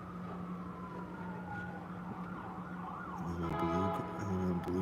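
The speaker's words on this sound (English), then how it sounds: "They switched up the ambulance siren sound" Ambulance siren wailing at an intersection, a sweeping tone that switches partway to a faster, louder yelping pattern over low street rumble.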